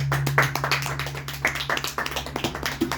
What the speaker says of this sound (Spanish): ¿Cuánto le dan un fuerte aplauso a Jesús?